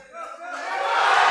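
Crowd at a USAPL Summer Showdown powerlifting meet cheering a lifter's 590-pound third-attempt squat, a rising roar of yells that swells louder and denser through the moment.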